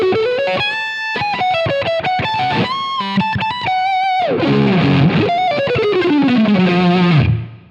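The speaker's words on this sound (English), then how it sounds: "Here's the hall reverb." Electric guitar played through a Pod Go with a hall reverb, distorted lead lines in fast runs and bends, ending on a held note whose reverb tail rings out and fades.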